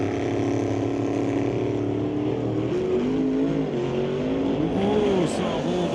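Drag race cars at a pro race, including a Chevy S10 spinning its wheels, roar steadily with a rising, wavering engine note as they launch, heard from a distance with a commentator talking over the noise.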